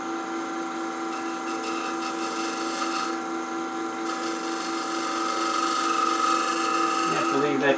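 A wooden goblet spinning on a lathe is sanded with a steady, loud hum and rasping friction that grows slightly stronger toward the end, with a brief scrape at the finish.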